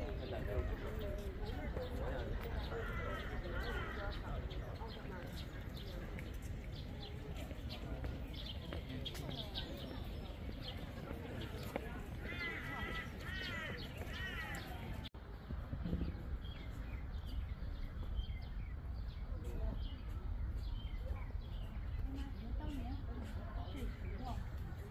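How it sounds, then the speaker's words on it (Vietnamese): Small birds chirp and twitter in Beihai Park, Beijing, their calls scattered through steady crowd chatter and footsteps, with people talking throughout. "Chim hót líu lo."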